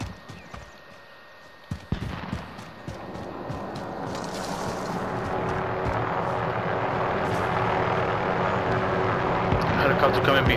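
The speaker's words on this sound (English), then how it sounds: "Helicopter coming behind us." A helicopter in the video game Call of Duty: Modern Warfare makes a steady rising rotor drone that builds from faint to loud over several seconds, with gunfire-like clicks and game noise early on.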